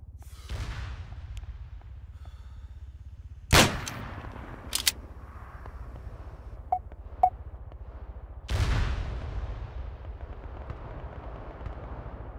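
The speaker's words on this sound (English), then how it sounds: "They are shooting us from stairs, Tom." Sniper rifle shots in the video game Arma 3, a few sharp, loud reports spaced several seconds apart, with smaller distant cracks between them over a low ambient background.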